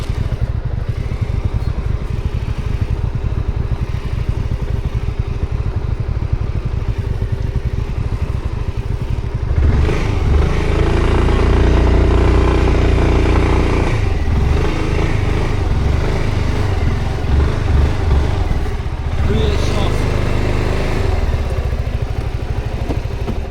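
A Suzuki Burgman 400 scooter runs close by as it is moved onto gravel, its engine a steady loud drone that rises and roughens around the middle before settling back to a throbbing idle.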